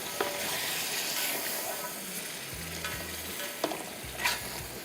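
Bombay biryani ingredients being roasted in a pot over a high flame, a loud steady hiss of frying with a few clinks and scrapes of stirring, close by and without speech.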